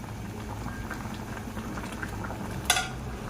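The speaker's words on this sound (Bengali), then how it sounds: "ঝোল ফুটে গেছে, এবার ভেজে রাখা মাছ দিয়ে ঢেকে দেব।" Hilsa fish and potato gravy bubbles at a low, steady boil in a pot, with a brief clink of a utensil against the pan near the end.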